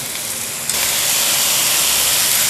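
Carrot, capsicum, cabbage and green chillies hit hot oil in a wok, setting off a loud, dense, steady hiss of sizzling that jumps up sharply after a moment and then keeps going, close by.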